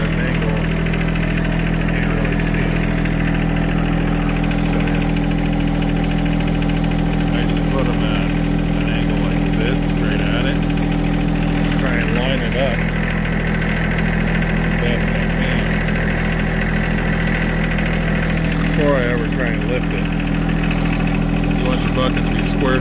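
A tractor engine idles steadily and close by the whole time, a constant low rumbling hum with an even mechanical knock, while someone talks intermittently over it outdoors on a ranch.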